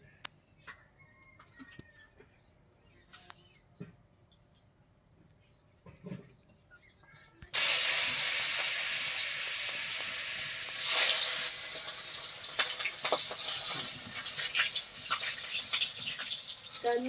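Hot oil spits and sizzles loudly around frying river catfish, a dense crackling hiss that bursts in suddenly after a quieter stretch of faint background chirps and clatter, then carries on steadily.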